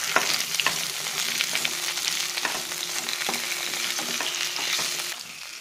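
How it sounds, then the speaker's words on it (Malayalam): Mango pieces sauté in hot coconut oil, giving a continuous bright sizzle with periodic scraping strokes of a spatula, close and steady with no voices. "ഒരു മിനിറ്റ് മാങ്ങ ഈ വെളിച്ചെണ്ണയിട്ട് ഒന്ന് വഴറ്റണം."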